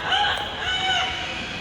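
An Amazon parrot at an outdoor bird show amphitheatre mimics a rooster's crow, a loud, drawn-out, slightly harsh call that rises and falls over about a second and a half.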